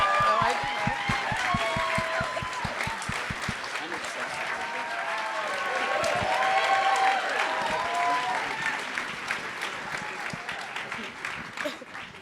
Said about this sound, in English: Let's keep the clapping going.